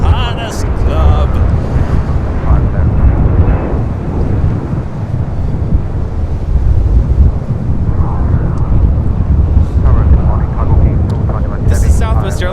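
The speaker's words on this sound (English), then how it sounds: "This is Southwest Airlines 505 coming in from Phoenix on a 737-700 in the Arizona 1 livery" Southwest Airlines Boeing 737-700 in Arizona One livery arriving at LAX from Phoenix, a loud low rumbling jet roar that swells and lingers, with someone talking over it at times.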